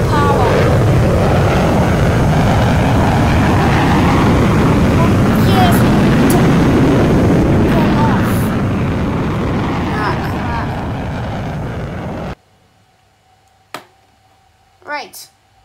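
A fighter jet's engine roars at full power in the Roblox game P.T.F.S, a loud, steady, wind-like rumble that fades slightly and then cuts off abruptly, leaving near silence with a couple of brief noises after.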